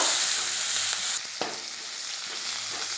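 Chopped onion and green chilli frying in a hot pan, giving a continuous near sizzle broken by a couple of sharp utensil knocks, with no speech.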